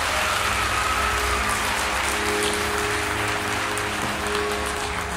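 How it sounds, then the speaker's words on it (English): A live audience at an illusionist's stage show claps in a full, steady round of applause, a dense hiss-like patter of many hands lasting throughout at constant level, with a low background hum beneath and no talking. "Another big round of applause for Tim and Jesse."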